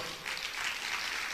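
A congregation applauds during a church service, a steady wash of clapping from many hands held at an even level with no voice over it.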